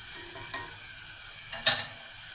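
Spiced rice stuffing for stuffed pigeon, seasoned with black pepper, is stirred in a pan over a faint steady sizzle, with two soft spoon-scrape knocks close by.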